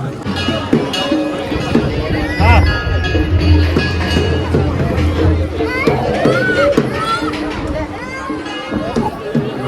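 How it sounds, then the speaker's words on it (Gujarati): A large crowd of devotees at the Goga Maharaj temple in Dasaj: a dense murmur of many voices and movement fills the background while one person talks close up over it. "કેટલી પબ્લિક છે ખાલી જો ફૂલ ભીડ બહુ જ પબ્લિક છે"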